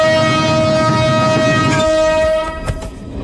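A train horn blares loud and close in a long sustained tone as the train departs, then cuts off, leaving quieter rolling rail noise with a few clanks.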